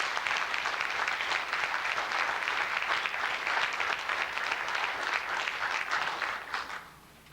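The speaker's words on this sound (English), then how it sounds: "Let's give all our veterans another round of applause." Sustained applause from a crowd at a Veterans Day program, steady and fairly loud, then fading out near the end.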